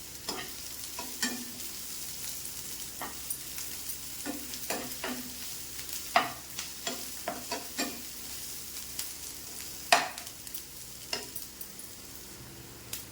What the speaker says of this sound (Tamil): இதில் ஒரு 5 பல் பூண்டு நல்லா நச்சு போட்டுக்கலாம். இதையும் போட்டுக்கலாம், போட்டு வதக்கணும்.